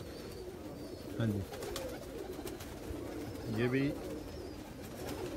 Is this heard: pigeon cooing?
yes